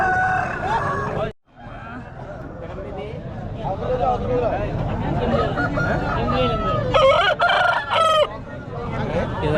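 A rooster crows loudly and repeatedly at a busy Sankranti country-chicken market in Gollapalem, East Godavari, with hens clucking and a hubbub of people talking throughout.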